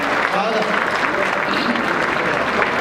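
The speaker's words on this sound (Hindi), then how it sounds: "एक बार गीत की अनुमति के लिए तालियां बजा दीजिए।" Audience applause at a live Hindi poetry and song recital, a steady wash of clapping filling the hall throughout, with faint voices mixed in.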